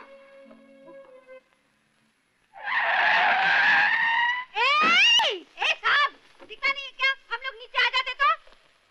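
A car skids loudly for about two seconds as it brakes to a stop in a Hindi feature film scene, followed by a short sharp squeal and then voices.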